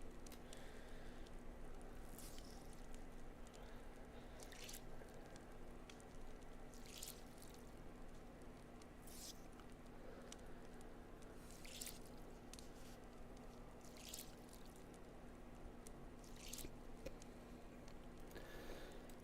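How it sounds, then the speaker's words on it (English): Soaked clothes being wrung out in the survival video game DayZ, repeated wet squishing twists with drips, each squeeze short and soft, spaced over a steady low hum of background ambience. "I am going to wring my clothes out"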